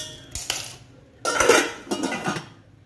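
Japanese stainless steel cooking pots with glass lids knocked and handled, giving three bursts of bright metallic clanks and clattering, the middle one loudest, close by with no talk.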